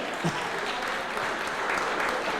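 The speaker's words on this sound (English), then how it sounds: "Mother Queen, Afua, give her a round of applause." Steady audience applause fills the room at an event honoring Queen Afua with Dick Gregory, a dense wash of many hands clapping at even volume, with faint voices mixed in.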